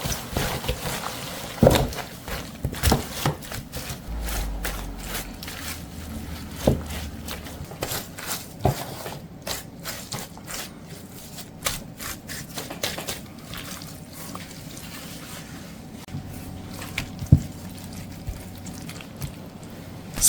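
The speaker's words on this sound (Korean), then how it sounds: "양념이 맛있게 됐으면 절인 알타리 무를 넣어서 살살 버무립니다." Wet squelching and sticky slapping as salted ponytail radish is mixed with kimchi seasoning by hand, going on steadily for a long stretch, with occasional sharp taps and clicks, and no talking.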